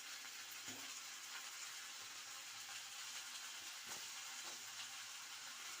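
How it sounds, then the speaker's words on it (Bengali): Prawns sizzle in a pan with spinach and spices for a Bengali palong shak chochchori, a steady faint hiss of frying with a few soft stirring knocks. "এবার আবার চিংড়ি মাছটাকে এর সাথে ভালো করে ভাজা ভাজা করে নেব।"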